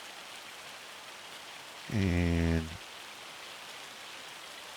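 Steady rain hiss in Farming Simulator 25, a constant broadband patter across the whole stretch, briefly overlaid by a short spoken word.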